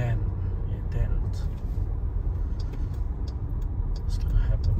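Stuck truck with engine running and tires spinning in place, a steady low rumbling drone continuing throughout with voices talking over it.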